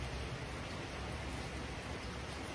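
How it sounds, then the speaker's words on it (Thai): Steady rain falls on a rural Thai farm, a continuous broadband hiss of drops on surfaces with no breaks, moderately quiet and even throughout. "ฉ่ำมากๆคือฝนตก"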